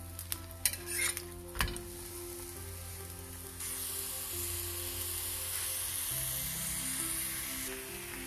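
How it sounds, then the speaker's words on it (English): Jowar thalipeet roasting in oil on a pan gives a steady soft sizzle, with a few sharp utensil clicks near the start and a brighter, louder frying hiss after the flip, alone without talk. "Add oil to this as well. Now this is roasted, we will flip this."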